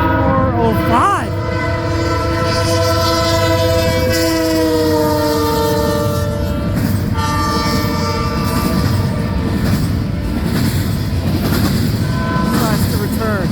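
A CN freight train led by a rebuilt C6M-type locomotive passes at Ladysmith, Wisconsin, its loud multi-tone horn blaring over a continuous heavy rumble and wheel noise close by.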